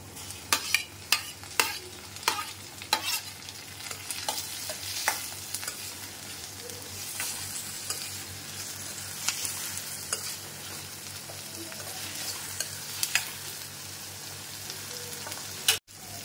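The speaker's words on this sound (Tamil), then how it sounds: "வெங்காயம் தக்காளி நல்லா வதங்கிடுச்சு." Onions and tomatoes sauté in a pan for a drumstick masala. A close, steady sizzle is punctuated by repeated sharp spoon clicks and scrapes from stirring, most frequent early on, with one louder knock at the end.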